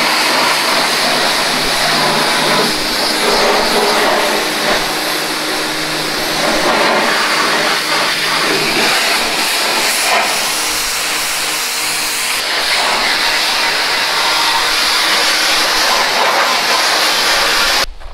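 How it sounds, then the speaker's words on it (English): Electric pressure washer blasting paint off the side of a jon boat, a continuous loud hissing spray that stays steady and close for the whole stretch with small shifts as the nozzle moves. "I wonder if the pressure washer would get the paint to come off the side here."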